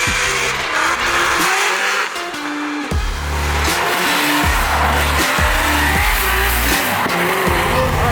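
Race cars run a practice session at World Wide Technology Raceway, engines revving hard through repeated gear shifts with tires squealing, loud and close throughout.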